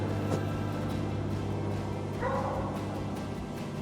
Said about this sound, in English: Oh, cute puppy.